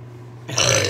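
A short, loud burp erupts halfway through after a quiet lead-in, rough and throaty, close to the listener and heard alone.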